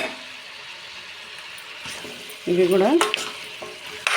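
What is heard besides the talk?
cut ivy gourd pieces added to frying chicken curry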